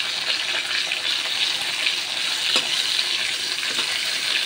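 Fish fries in hot oil in a pan, a steady close sizzle and crackle with faint pops that holds evenly throughout and no voices.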